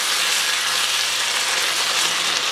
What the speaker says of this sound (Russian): И теперь будем обжаривать лосятину не более 5 минут